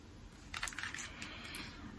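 Soft, close riffling and tapping of tarot cards being cut, a brief cluster of quiet papery clicks against a hushed room.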